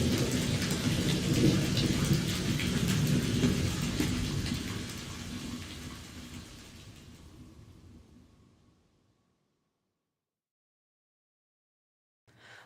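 Heavy rain of a thunderstorm pours in a dense, continuous roar with deep rumbling thunder, loud at first, then slowly fading away into silence before a brief burst returns at the very end.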